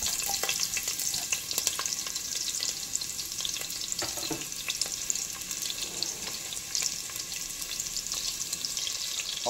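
Thinly sliced onions frying in oil in a pan for chicken masala curry: a soft, even sizzle runs throughout with occasional light taps and clinks of stirring, no talking.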